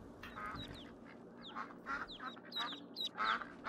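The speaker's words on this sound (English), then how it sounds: "It's a mallard. Mallard ducks." Mallard ducks quack repeatedly in Skyrim, a steady scatter of nasal calls over a constant low background hum, with several birds overlapping at close to middle distance.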